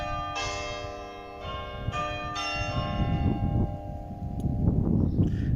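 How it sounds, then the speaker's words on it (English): Church bells ring out in several struck peals with long ringing decay, heard at moderate distance over a rumbling outdoor background with no talk. "I'm always timing these videos with church bells."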